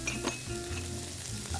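Fresh basil and garbanzo beans land in a pan of sizzling shallots and onions, a close, continuous frying crackle with faint low rumbling beneath.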